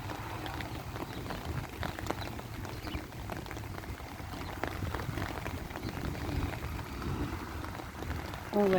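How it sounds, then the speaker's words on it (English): Heavy rain from a spring thunderstorm pours steadily and loudly on surfaces near a horse round pen, a dense unbroken hiss with scattered drops, continuing without pause throughout. "All that noise is the storm."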